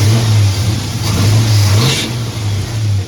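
A car engine revs loudly up close, its pitch rising and falling in a few surges over a deep, rumbling idle.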